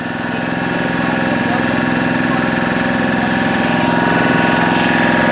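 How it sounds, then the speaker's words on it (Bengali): The engine of a fishing trawler carrying passengers on a sightseeing boat ride at Dublagadi sea beach chugs loud and close, a steady rhythmic diesel thrum throughout. "এইগুলো পুরো মাছ ধরার ট্রলার"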